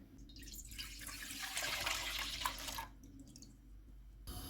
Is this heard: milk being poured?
yes